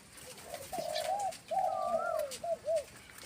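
A trained dove calls nearby with a series of clear, resonant coos, a long phrase followed by shorter ones, over quiet outdoor background.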